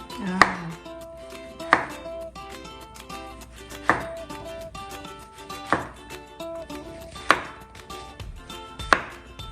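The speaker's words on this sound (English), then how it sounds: "Now you can start with slices, like probably like this, like 1/2 inch slices." A knife cuts a wild mushroom into half-inch slices on a board with six sharp chops at an even pace. Each cut lands close and clear, and there is no talk under it.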